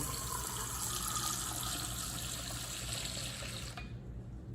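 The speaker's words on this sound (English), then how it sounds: "So we dispense upside down," Nitro cold brew coffee pours from an upside-down kettle system over a sink, a steady rushing gush of liquid and gas that runs loud and continuous before cutting off near the end.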